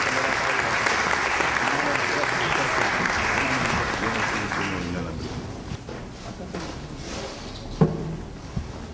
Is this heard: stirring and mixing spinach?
no